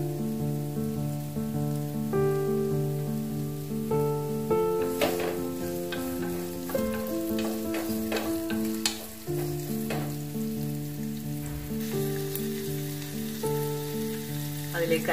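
Chopped onions frying in a pan for vegetable manchurian, a steady sizzle running the whole time beneath a bed of sustained musical tones, with occasional stirring clicks.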